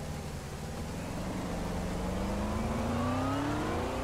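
A car engine in the video game DayZ hums steadily and revs up gradually, its pitch rising smoothly over a few seconds, fairly close and continuous with no talking.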